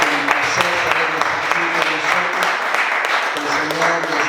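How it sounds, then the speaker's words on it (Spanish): A church congregation claps for the performers, producing a brief, dense burst of applause with voices mingled underneath. "Un aplauso para ellos, gloria al Señor."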